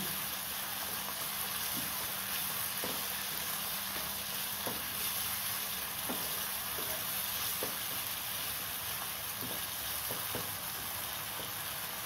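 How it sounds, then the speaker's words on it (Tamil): Ginger garlic paste sautéing in a pan makes a constant, even sizzle with occasional faint spatula taps, steady and moderately quiet. "இஞ்சி பூண்டு விழுது வதங்கும் போது நல்ல வாசனையாக இருக்குது"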